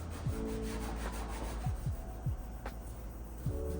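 A polisher with a pad works over rusted paint on a 1962 VW Samba. It gives a close, continuous gritty rubbing with repeated sweeping scrapes and a low motor hum beneath.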